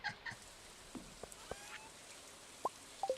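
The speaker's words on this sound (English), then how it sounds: "It is raining, so we can go fishing." Rain in the video game Stardew Valley, a quiet hiss dotted with scattered individual drips and short pitched plinks that fall irregularly, with no voices.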